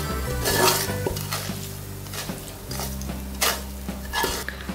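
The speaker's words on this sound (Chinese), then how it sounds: "干辣椒，将它们炒香， 炒香后一起倒进来" Dried chilies and minced garlic being stir-fried in a wok, with repeated scraping and clanking of a metal spatula against the pan over a low sizzle.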